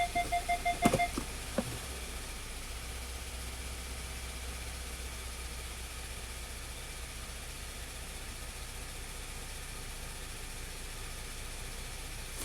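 A Hyundai car engine idles steadily with a fault for idle speed running too high, giving a constant low hum and hiss after a few sharp clicks at the start.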